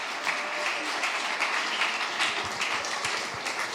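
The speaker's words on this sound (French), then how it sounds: "On peut applaudir Marc Woltenhauer pour le Manoir maudit." An audience at a literary award ceremony applauds, dense and sustained clapping filling the room at a steady level throughout.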